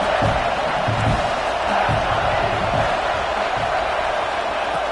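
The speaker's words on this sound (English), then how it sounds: "the crowd coming to life here, trying to help this defense down in the red zone" A football stadium crowd roars for the defense in the red zone, a steady, loud wash of cheering that holds without a break.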